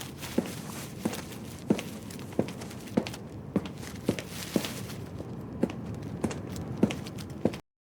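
Steady AI-generated footsteps, about one every half second, crisp and close, walking evenly for several seconds before stopping abruptly.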